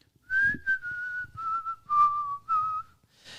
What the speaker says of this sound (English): And as the car falls down, he hears someone whistling.